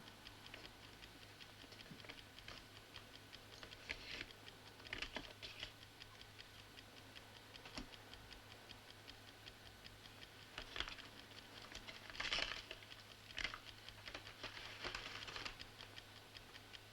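A time bomb ticks like a clock, a faint, steady run of small ticks under a low background hiss.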